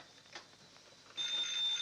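A 1940s telephone bell starts ringing in a quiet house at night, a steady continuous ring heard indoors at moderate volume after a near-silent pause.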